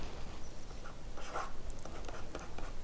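Pen scratching on paper while working a math problem, quiet and close, with short strokes and brief taps over a hissy background.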